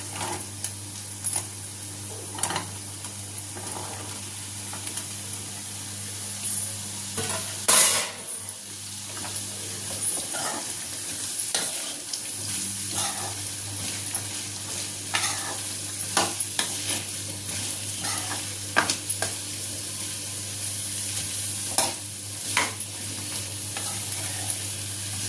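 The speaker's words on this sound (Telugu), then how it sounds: "ఇప్పుడు క్యారెట్ ముక్కలు కూడా వేసేసుకుందామండి." Carrot pieces frying with green chillies in a pan for a carrot fry: a continuous sizzle broken by frequent spatula clicks and stirring scrapes, over a low steady hum.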